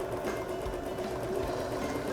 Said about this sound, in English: We're just going to keep that folded as I push it into the sewing machine.